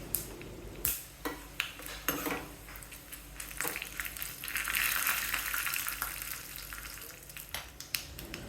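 Tempering in a tablespoon of oil for manathakkali keerai kootu, with mustard seeds, urad dal and halved dried red chillies: steady frying sizzle with sharp spoon clanks and stirring scrapes against the pan, close by.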